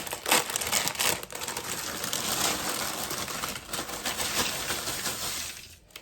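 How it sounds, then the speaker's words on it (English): Cheez-It crackers, original flavor from a 12.4 ounce box, poured and spread across a parchment-lined baking sheet, making a loud, dense, continuous crinkling rattle up close that tapers off at the end. "we're going to start out by putting those on a parchment lined baking sheet"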